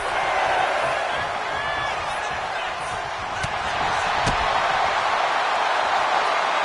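Arena crowd in the WWE 2K25 wrestling game roars steadily throughout, a dense wash of cheering with scattered whoops and a couple of sharp slaps or thuds near the middle.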